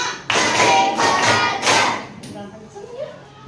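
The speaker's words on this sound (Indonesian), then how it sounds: "Tepuk 1. Tepuk 2. Tepuk 3. Tepuk 4. Tepuk 5." A school class claps together during a counting activity, producing several loud, dense bursts of hand claps in a row, then quieter sounds as voices continue after the clapping.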